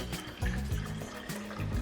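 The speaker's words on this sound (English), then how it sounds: "get our shampoo, open that up, and just pour it in" Shampoo is poured into the tank of a Bissell BarkBath pet washer, a faint, short liquid glug and splash heard close up.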